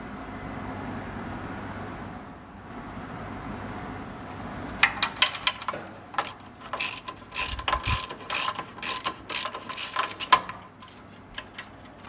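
A ratchet is at work on the leaking clamp of a car exhaust. A quiet stretch leads into rapid clicking bursts from the pawl, uneven and close, mixed with metallic knocks and no talk.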